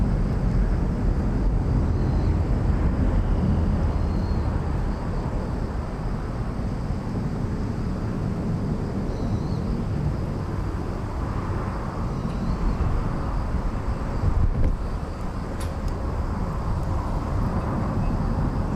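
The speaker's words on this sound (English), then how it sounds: "Korean Air 788 arriving from Fukuoka in Japan," A Korean Air Airbus A350-900 airliner arrives at Incheon with a broad, steady jet roar heard from a distance, mixed with wind rumble.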